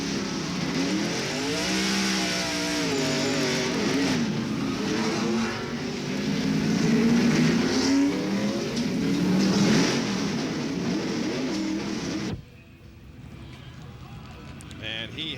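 In-car sound from a NASCAR stock car at the 1994 Sonoma road course race, a loud steady engine roar rising and falling with shifts for about twelve seconds, with commentators talking over it before the sound drops away.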